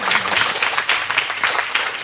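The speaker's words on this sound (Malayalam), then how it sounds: "അതിന് പ്രത്യേക കയ്യടി കൊടുക്കാം." Loud, dense applause from an audience at an Onam celebration of a Kerala wheelchair users' federation, a continuous, close roar of many clapping hands with no talk.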